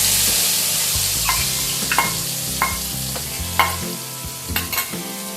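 Soaked spice paste hits hot oil with cinnamon sticks and sizzles loudly, while a spatula scrapes and taps the pan in a steady stirring rhythm up close.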